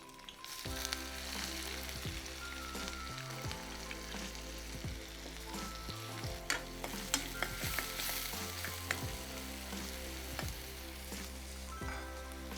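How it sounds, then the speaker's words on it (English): Chopped onions and cumin seeds fry in hot oil for an Indian soyabean keema masala, giving a steady close sizzle with occasional stirring scrapes and small pops throughout, with no talk. "After the cumin seeds, I will add 2 medium-sized chopped onions,"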